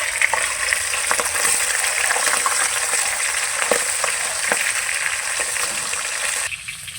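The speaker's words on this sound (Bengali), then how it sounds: "এখন ভেঙে নেওয়ার পরে মাছের মাথাটাকে ভালোভাবে এখন ভেজে নেব আর কি।" A large rohu fish head frying in oil gives a loud, continuous crackling hiss up close, with a few sharper pops. The sizzle drops away at the very end.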